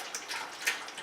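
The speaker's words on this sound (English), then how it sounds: "we're going to pour our milk" Milk poured from a container into a stainless steel pot while making goat cheese; a close, steady liquid pour with light splashing and a few brighter surges.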